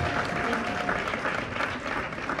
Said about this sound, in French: On peut applaudir comme il se doit.